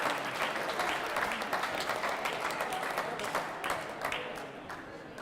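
Crowd applause fills the hall after the 2018 All Ireland Ladies Singles squash final, a dense, sustained clapping that holds steady before tapering slightly near the end.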